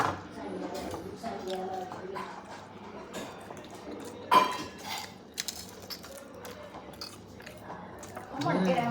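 Someone chews Gujarati khaman with kadhi, giving soft, moist bites and mouth sounds close to the mic, mixed with light dish clinks and occasional talk.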